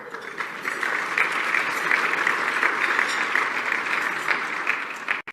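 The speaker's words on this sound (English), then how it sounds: "one more round of applause for our airline sponsor, Air Canada" Steady audience applause thanking the sponsors of a business luncheon event, sustained clapping from a large room at even loudness for several seconds before cutting off abruptly at the end.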